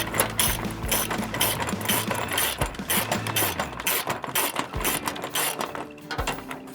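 A ratchet wrench tightening nuts onto the bolts of a Spin rod locker rack, with a fast, steady metallic clicking that continues for several seconds, close and loud, with no voices.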